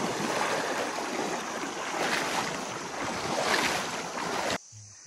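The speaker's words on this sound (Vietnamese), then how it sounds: "đang lội qua suối" Someone wades through a stream deep in a forest, with a continuous broad rush of moving water and splashing close to the microphone. Wind buffets the mic throughout, and the sound cuts off abruptly near the end.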